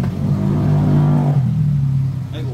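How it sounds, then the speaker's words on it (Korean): A loud motorcycle engine roars steadily nearby throughout, its low drone holding strong before easing slightly near the end, heard in a kitchen setting where mullet is being filleted. "아이고 오토바이 시끄러워."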